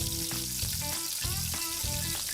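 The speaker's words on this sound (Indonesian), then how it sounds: "The first, dagingnya digoreng dulu ya guys." Beef for a black pepper beef dish frying in hot oil, a steady close sizzle and crackle running the whole time, with faint background music underneath.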